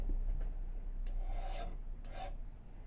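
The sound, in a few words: filing to deburr the edges of a square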